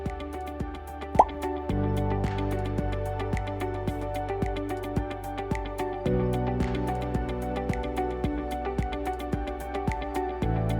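An automatic indoor plant waterer drips water in a steady series of close, sharp plops over a low continuous hum, with one louder splash near the start.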